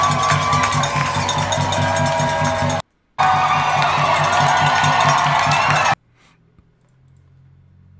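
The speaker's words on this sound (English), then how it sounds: "Philly crowd cheers as USPS truck drives by in celebration" A street crowd in Philadelphia cheering and shouting as a USPS mail truck drives past, loud dense cheers with clattering noise, cutting out briefly before trailing off to near silence.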